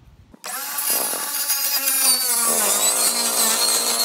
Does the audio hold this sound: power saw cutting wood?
yes